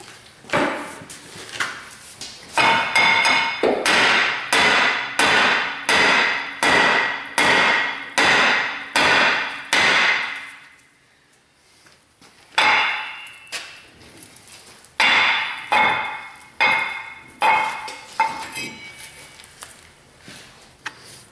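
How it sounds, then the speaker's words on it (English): Hammer tapping a brake rotor off the front hub of a Chevy/GMC truck: a rapid run of sharp metallic blows, a brief pause, then further bursts of strikes, loud and close with no talk. "Let's see if we can tap the rotor off."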